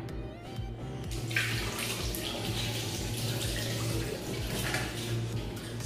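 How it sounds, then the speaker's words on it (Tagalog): Water pours steadily from a running tap while hands are rinsed beneath it, giving a constant close splashing that does not let up. "Hugas tayo ng kamay."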